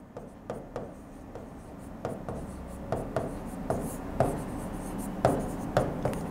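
A pencil on a compass sweeps arcs across paper during a school geometry construction, giving a steady close scratching with a string of light rhythmic ticks over a constant room hiss, with no voice.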